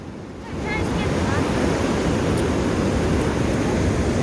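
Ocean surf washes steadily onto a California beach, a continuous broad roar of breaking water and wind that rises after the first half second and holds loud to the end.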